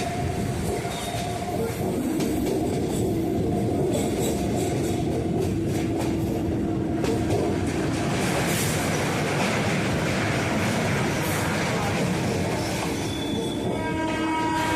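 A Kolkata local train rolls over the Kestopur canal bridge, a loud continuous rumble and clatter of wheels on track with rising squeals, heard from inside the moving train.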